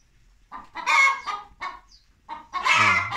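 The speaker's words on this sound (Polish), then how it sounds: "Ta biała i później tam wszystkie na grzędzie zaczęły tak gdakać, że się nie dało wytrzymać." Hens cluck loudly and agitatedly inside a henhouse in winter, several close bursts of cackling calls separated by brief gaps, growing more intense toward the end.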